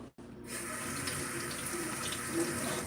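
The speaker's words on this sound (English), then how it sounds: "I just wanted to rinse my hands from the eggs that got on it." A kitchen tap runs into the sink while hands are rinsed of raw egg, a steady close splashing stream starting after a brief click and carrying on alone.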